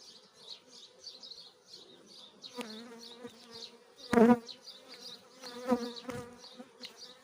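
Honeybees buzz steadily around the hive close by, with a few louder thumps and rattles of wooden frames being handled.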